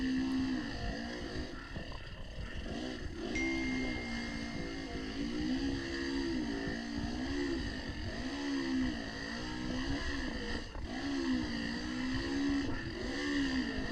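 Dirt bike engines straining up a steep rocky hill during a hare scramble race, a continuous buzzing drone whose pitch rises and falls as riders work the clutch and throttle, moderately close and steady throughout.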